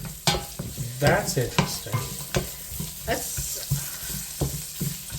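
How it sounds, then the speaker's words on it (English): Durban curry with onions is stirred in a pot, giving rhythmic scraping and sloshing strokes over a sizzling base, with a brief spoken remark. "Giving it a stir"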